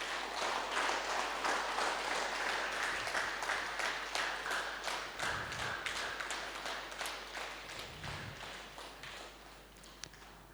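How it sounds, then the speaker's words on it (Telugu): A group of meditation participants clapping loudly together, a dense steady patter of many hands that gradually thins and fades toward the end, recorded at low level. "ఒకసారి గట్టిగా చప్పట్లు కొడదామండి మన శరీరానికి."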